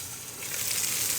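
Pork pieces sizzle in oil in a covered pan, a steady close hiss that rises slightly over a short moment, alone without voices.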